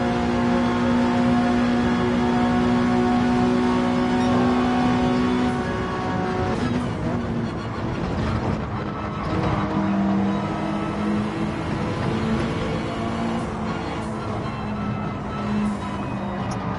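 A race car engine in a racing video game at the Watkins Glen short course holds a loud, sustained high-rpm drone, then shifts and revs through rising and falling pitches with a busy, rough texture.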